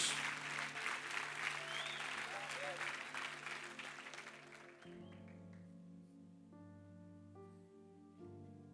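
A church congregation applauds during a Monday evening service, a broad wash of clapping that fills the first five seconds and then thins out as music and voices take over.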